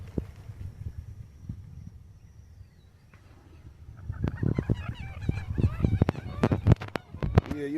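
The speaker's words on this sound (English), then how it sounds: "Yeah, you hear the birds is happy." Birds call outdoors in an alligator habitat, a few faint calls early, then a busier burst of honking, squawking calls with sharp noisy bursts in the second half, fairly close.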